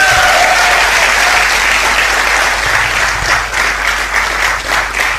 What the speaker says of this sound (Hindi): जोरदार तालियां स्वागत करें